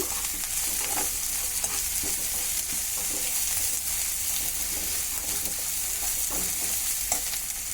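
Chopped onions fry with a steady, close sizzle in a pan for an amaranth leaf curry, broken by soft scrapes of a stirring spoon; no one speaks.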